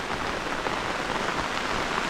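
Steady, dense hiss of heavy rain pouring down, a continuous wash of drops with no pauses and no voices.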